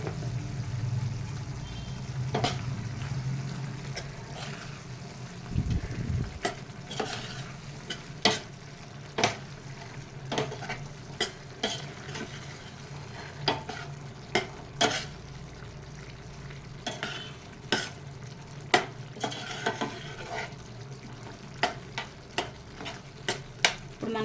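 A spoon stirs tomato and pacchi pappu curry frying in a pan after chili powder goes in, with steady sizzling and repeated scraping strokes at an uneven rhythm close up.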